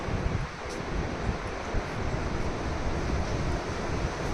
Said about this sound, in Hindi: और बहुत तेज़ हवाएं चल रही हैं